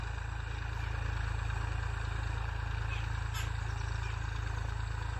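A Massey Ferguson 1035 tractor's diesel engine runs steadily in the open, a loud, constant low throbbing drone with wind rush, no pauses or revving across the stretch.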